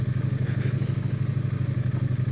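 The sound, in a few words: Triumph Bonneville T100 motorcycle riding on gravel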